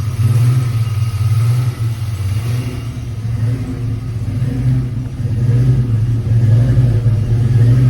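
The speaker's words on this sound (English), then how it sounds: "So as it warms up, the idle air control should idle it down." Ford Mustang GT45 turbo with a 302 engine idles steadily while warming up, a loud, continuous low rumble with slight rises in pitch and level, no voices.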